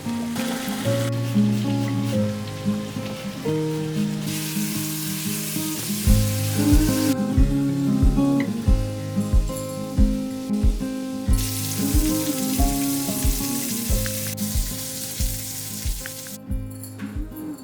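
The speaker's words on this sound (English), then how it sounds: "pasta cooking." Pasta cooking on a home stove gives a bubbling, sizzling boil with steady crackle and some stirring, close and fairly loud, alongside soft tonal background sounds.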